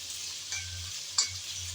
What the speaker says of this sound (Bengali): হলুদ আর লবণ দিয়ে ভালোভাবে নেড়ে চেড়ে মিশিয়ে নিলাম।